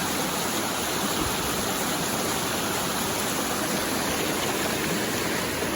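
A waterfall on a fishing stream pours in a steady, dense broadband rush, close and continuous with no breaks.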